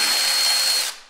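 Power tool whirring on a bolt while a front bench is unbolted from an FJ40, a brief loud continuous whine at close range that cuts off after about a second.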